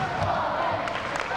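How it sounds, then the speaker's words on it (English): Loud, steady roar of a crowd cheering at a 1997 high school boys' basketball game between Quincy, Illinois and Rock Island Alleman, a dense unbroken wall of voices with a few sharper shouts rising near the end. "The crowd is loud."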